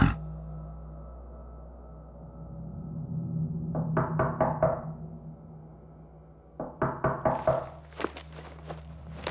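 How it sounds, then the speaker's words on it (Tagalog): Knocking on a door in a horror story setting, two bursts of about five sharp, evenly spaced raps each, close and loud, separated by a quiet pause over a low hum. "Sino ba yung kumakatok?"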